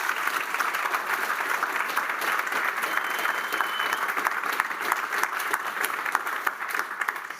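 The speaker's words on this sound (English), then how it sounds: "Give them a big hand of applause." At a tech talk about an API gateway migration, an audience claps steadily for several seconds, a dense, even patter of many hands at moderate loudness, with no talking.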